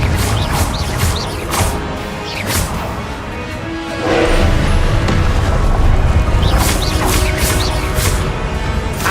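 Confringo fire spell explosions in Hogwarts Legacy, a series of loud booming blasts and crashing impacts over a dense roar of battle noise, rising to a heavier barrage midway.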